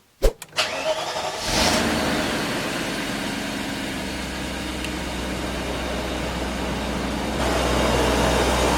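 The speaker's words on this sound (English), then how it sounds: "Fan clutch working as it should." A BMW E34 cranks with a few short starter bursts and catches, settling into a steady idle after a cooling-system refresh. The engine-driven fan clutch adds a constant whooshing roar, and the sound is close and loud throughout.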